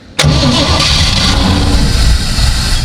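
A 1956 Chevy engine fires up abruptly and settles into a loud, steady running rumble close by, with no talking over it.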